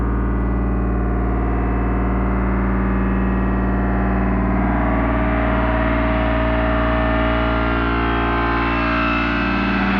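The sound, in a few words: gong vibrating on its own without being struck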